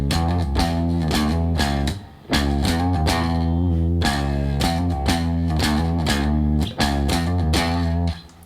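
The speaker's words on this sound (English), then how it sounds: "this bass line that I'm juxtaposing against 4/4 is basically a 15 beat cycle" A heavily distorted bass plays a repeating riff built on a 15-beat cycle set against 4/4, with sustained deep notes broken by a few short dropouts, loud and up front with no voices.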